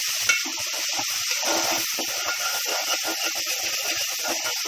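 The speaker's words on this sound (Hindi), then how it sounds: "अब सुकट भी इसके साथ ही भूनेंगे।" Dried shrimps (sukat) roast in a pan with a continuous close sizzle and hiss, with faint stirring scrapes now and then and no talk.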